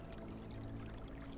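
Pumped rainwater flowing in a point-and-click adventure game, a steady soft pouring wash of water, continuous and fairly faint throughout the short stretch.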